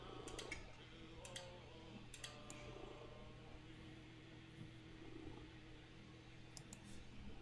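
Fast bursts of keyboard typing, clicks in short clusters near the start and again near the end, faint over a steady low hum while someone sets up a Dungeons & Dragons game list on a computer.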